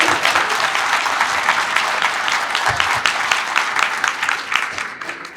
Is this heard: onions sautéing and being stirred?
no